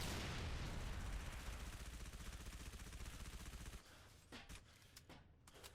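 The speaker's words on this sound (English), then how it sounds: "add in some SMG bullets to help push the hog" SMG gunfire in the video game Halo 3: ODST, a dense rapid burst of shots with booming impacts that runs for several seconds, then gives way to a few scattered single shots.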